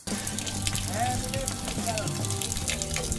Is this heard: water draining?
yes